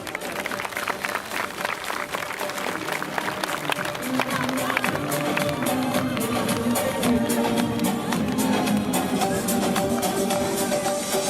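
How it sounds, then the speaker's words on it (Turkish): An audience claps loudly at a civic gathering for a chamber of commerce board and assembly, dense sustained applause that swells over about eleven seconds, with a few voices and cheers mixed in. "çok kuvvetli bir alkış rica ediyorum ben"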